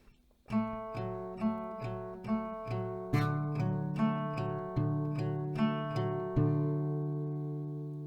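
A guitar picks a slow melody, each note plucked and left ringing as it fades, played alone and fairly softly.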